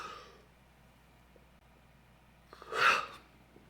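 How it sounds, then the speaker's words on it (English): A man lets out a yawn during a pool challenge match, a single drawn-out breathy exhalation that swells and fades near the end after a quiet stretch. "I keep yawning for some reason"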